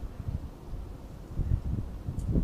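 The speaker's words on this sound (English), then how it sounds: "it is very windy out" Steady low rumbling wind buffets the microphone outdoors on top of the Union building, with stronger gusts swelling near the middle and end.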